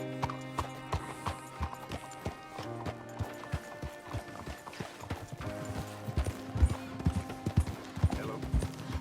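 Horse hooves clip-clop steadily in Red Dead Redemption 2, a walking rhythm of close hoof strikes over a low ambient game soundscape with occasional snorts, gradually picking up toward the end.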